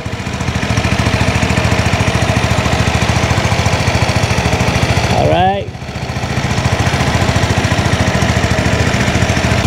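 Steady, close idle of a 2023 WMOTO RT3S maxi scooter engine, a rapid even chugging throb that dips briefly near the middle with a short whine before returning to the same rhythm.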